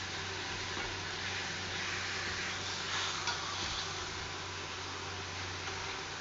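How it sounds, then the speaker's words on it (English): Fat from pork steaks sizzling and frying in a hot pan, a steady dense hiss that holds constant throughout, close-up, with no voices. "let that fat come on and cook out of there"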